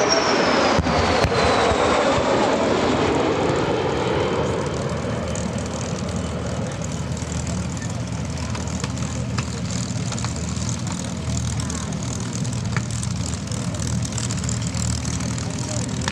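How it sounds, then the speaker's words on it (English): Low-flying B-25 bombers at the EAA AirVenture 2024 airshow roar past with unmuffled piston engines; a loud, barking drone sweeps downward in pitch as the aircraft pass close by, then settles into a steady, rumbling throb that fades gradually. "As we can hear low to your right, the B-25s with their barking light engine. There's no mufflers on the engines"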